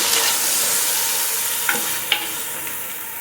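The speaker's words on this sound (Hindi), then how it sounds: "अब हम इसमें चम्मच चलाएंगे।" A spoon stirs haleem in a clay handi, giving a steady soft scraping hiss with two brief sharper clinks of the spoon against the pot near the end.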